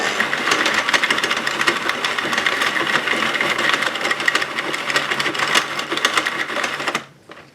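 A Sentro 48-needle knitting machine runs continuously with a loud, busy clatter of rapid mechanical ticks that suddenly stops near the end.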